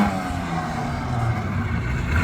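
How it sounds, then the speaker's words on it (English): A stunt Mini at Brands Hatch spins through backwards donuts, its engine droning and rising steadily at moderate distance, building slightly louder toward the end. "So, this car also does some crazy backwards donuts"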